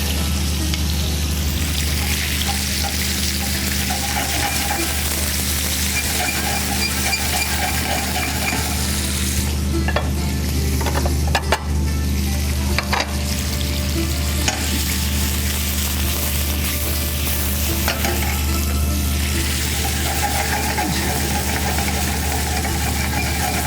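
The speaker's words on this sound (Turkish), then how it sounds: "Muhteşem balık cızırtısı." Continuous loud sizzling of fish frying in olive oil, close up, with scattered crackles and a brief clatter partway through.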